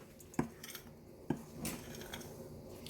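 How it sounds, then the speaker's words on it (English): Bacon being stirred into a bowl of dry biscuit ingredients, two sharp clinks of a utensil against the bowl followed by soft scraping and mixing sounds, close and quiet, without talk. "Now let's add the bacon and stir."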